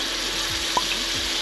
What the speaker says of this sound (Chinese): 那我就用它那个出来的猪油去一起煎蔬菜